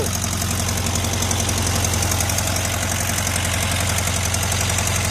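A 1973 VW Karmann Ghia engine idles steadily, close and loud, with an even low throb and a fast ticking rhythm from the valvetrain, running alone without voices.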